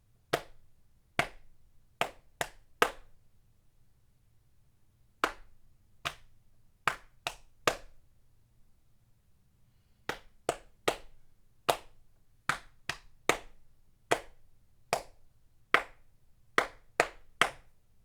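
Body percussion patting pattern performed alone, crisp sharp hand slaps on the body in rhythmic groups of two to four, with short pauses between phrases, close and clear in a quiet room.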